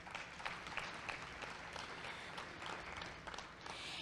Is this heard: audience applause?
yes